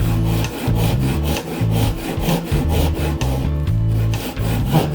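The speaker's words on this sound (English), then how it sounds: "those saw kerfs just help keep this saw in the middle of that groove" A hand saw cuts along a groove to separate a wooden box lid, making loud, close, steady back-and-forth rasping strokes in a quick, even rhythm throughout.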